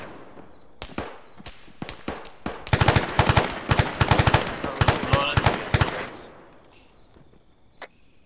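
Rapid bursts of automatic rifle and machine-gun fire in the military shooter ArmA 3, loud sustained volleys mixed with scattered single shots, tapering off to a few distant reports.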